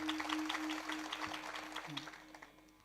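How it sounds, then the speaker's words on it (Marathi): A women's group at a devotional kirtan claps together, a faint, quick patter of many hands that fades away, with a sustained tone underneath. "एकदा फक्त महिला मंडळ टाळी वाजवा बरं."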